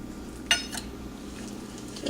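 Sugar being mixed into cream cheese for a cheesecake: a utensil clinks sharply against a bowl, then gives a softer second tap and a quiet scraping stir, close and alone.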